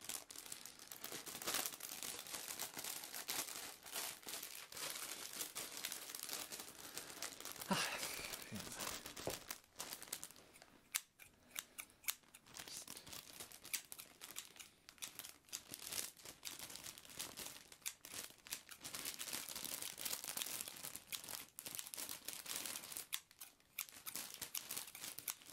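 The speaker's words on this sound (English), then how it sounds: "I'm just going to just cut some material for you here." Scissors cutting through suit fabric during a gentleman's suit fitting, a close, soft, continuous crunching and snipping with faint crinkling, quiet and intimate with no talking.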